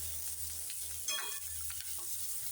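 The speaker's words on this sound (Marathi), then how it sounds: "आपण भाजून घेतलेले तरी पण हे तेलात फ्राय करणार आहे" Roasted green chickpeas fry in hot oil, a steady close sizzle with occasional stirring scrapes and small crackles running throughout without speech.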